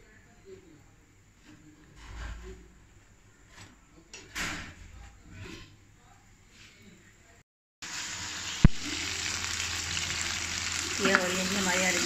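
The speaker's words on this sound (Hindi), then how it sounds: "ये हो रही है हमारी अरबियाँ फ्राई" Taro (arbi) pieces frying in a pan for arbi gosht, a loud steady sizzle that switches on abruptly partway through after quieter kitchen knocks and shuffling.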